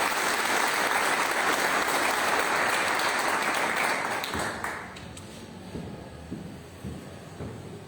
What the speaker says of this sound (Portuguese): Aplauda Jesus pela vida dela.